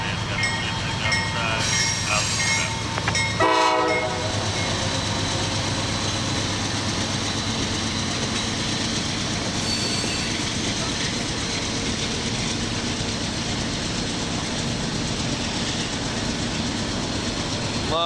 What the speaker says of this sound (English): There's that Pan Am boxcar again.